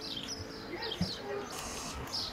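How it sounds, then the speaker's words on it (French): Birds chirp and sing faintly outdoors in the background, brief scattered calls over a quiet ambient hum. "Je sais pas si vous entendez tous les oiseaux qui chantent."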